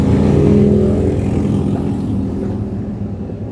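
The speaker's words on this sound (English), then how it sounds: "A bunch of motorcycles just started going past my house." Loud rumbling engines of a group of motorcycles passing a house, swelling at first and then slowly fading as they move off into the distance.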